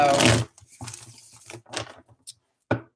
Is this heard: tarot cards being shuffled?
yes